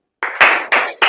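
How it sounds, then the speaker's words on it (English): A group in a public speaking class claps hands in three short, loud bursts of collective clapping separated by brief gaps, with no talking over it. "We can clap, right?"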